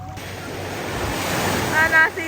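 Sea waves surge and wash along the shore at General Nakar, a steady broadband roar under wind buffeting the microphone, with a couple of louder swells building near the end.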